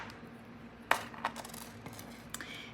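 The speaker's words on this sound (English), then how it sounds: "Then I'm going to cut off my excess wire." Jewelry wire cutters snip excess wire on a peach moonstone hoop earring, one sharp close click followed by a couple of lighter metallic clicks over a faint steady hum.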